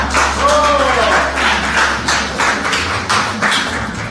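A group applauding indoors, with steady close clapping that runs the whole length under a voice.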